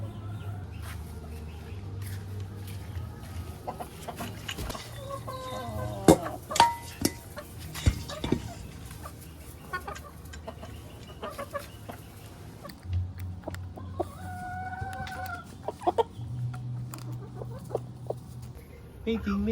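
Free-range chickens cluck and squawk close by in scattered bursts inside their coop and run at feeding, with some rustling and faint voices mixed in.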